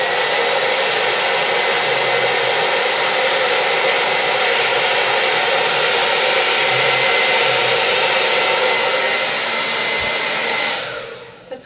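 A hair dryer blows steadily and loudly while hair is brushed and blow-dried straight, holding a constant roar for about eleven seconds before cutting off at the end.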